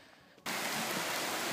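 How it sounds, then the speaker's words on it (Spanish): Rain in the hills around Huautla, Oaxaca, begins abruptly: after a quiet moment, a loud, dense hiss of downpour suddenly switches on and holds steady and close. "Ya se vino la lluvia."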